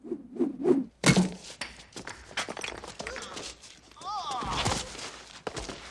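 Bricks thrown at burglars in a Home Alone 2 film scene, several sharp thuds and whacks with shuffling movement and a few grunts between them.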